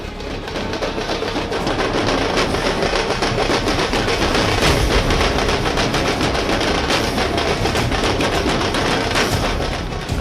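Dense, rapid crackling bangs go off continuously like a string of firecrackers at a political welcome procession with drums, loud and unbroken for the whole stretch.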